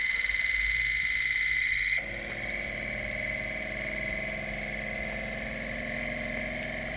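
A pulse motor on a control gear test bench hums steadily as it spins up to speed, a sharp tonal whine that drops and settles into a lower, rougher droning buzz after about two seconds, continuous and close.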